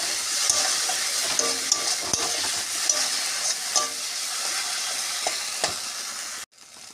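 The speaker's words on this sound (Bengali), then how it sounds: "এর মধ্যে আমি দেবো এখন কাজু বাদাম আর কিশমিশ, দিয়ে এটা ভালো করে নেড়ে নেব" Spice paste with cashews and raisins fries in a pan for potol dolma, a continuous loud sizzle with scattered clicks and scrapes from stirring. The sound cuts out abruptly near the end.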